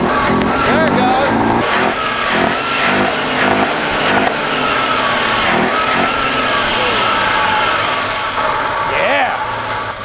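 A 1954 Chevrolet Bel Air engine runs steadily at a stuck high idle, loud and continuous throughout with a slight rev rise, while people talk over it.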